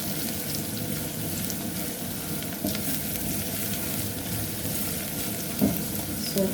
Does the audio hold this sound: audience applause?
no